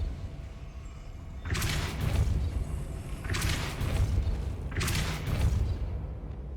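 Spell effects in a Hogwarts video game: three separate whooshing bursts, each with a deep rumbling boom, spaced a couple of seconds apart over a low ambient bed.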